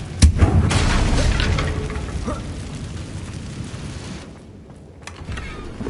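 A fire spell cast in Hogwarts Legacy bursts with a loud whooshing boom at the start, then a roaring, crackling flame rush that slowly fades, followed by a softer flare near the end.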